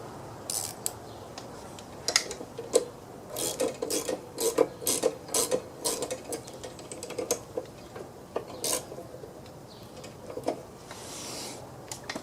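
A part on a Snapper Ninja mower with a stuck drive disc being tightened with a ratchet, a close series of irregular metallic clicks and ratcheting bursts with brief pauses.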